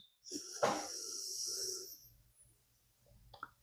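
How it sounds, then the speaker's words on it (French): Slow nasal inhalation through one nostril during alternate nostril breathing in an evening yoga session, a long soft breathy hiss, close and quiet, followed by a faint short sniff. "On bloque la droite et on inspire de la gauche."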